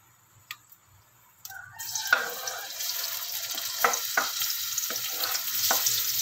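Pechay hits a little hot oil in a pan and sizzles loudly, a steady frying hiss with occasional ticks of stirring utensils, after a few quiet clicks at the start.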